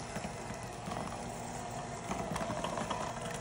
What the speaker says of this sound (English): Just gonna take my hand mixer and let's give this a stir.